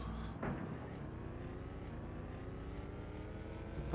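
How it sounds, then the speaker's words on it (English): Race car engines in the NASCAR video game Kyle Petty's No Fear Racing fire up, then settle into a faint, steady droning rumble. "Gentlemen, start your engines."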